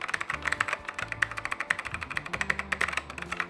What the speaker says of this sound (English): These keys have a really nice sound to them